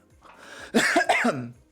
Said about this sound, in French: Vous voyez, j'en tousse.